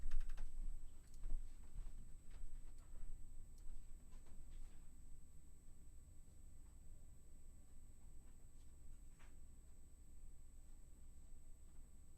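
Typing on a computer keyboard in a radio studio during a live stream, a quiet stream of soft, irregular key clicks that fade in and out under a steady background hum, with no talk.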